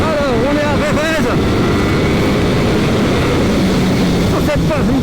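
A Ducati Panigale V4 S motorcycle at full throttle on the Jerez circuit, a loud, continuous engine roar with rapidly rising and falling pitch through gear changes, with speech over it.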